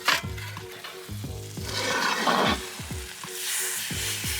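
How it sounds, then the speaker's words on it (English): Venison sizzles and sears in a hot pan close by, with a steady frying hiss broken by repeated scraping and clanking as the pan is handled and the meat flipped. "we're gonna grab this pan, flip this venison."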